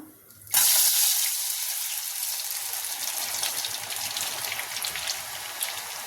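Ribbon pakodi dough sizzles steadily in hot oil, a loud, dense hiss that bursts in suddenly and then holds at a constant crackling level throughout.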